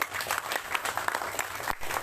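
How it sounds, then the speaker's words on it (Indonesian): An audience at a parliamentary constituency visit claps in dense, steady applause, moderately distant, with a few louder individual claps standing out. "Tepuk tangan dulu Bapak Ibu."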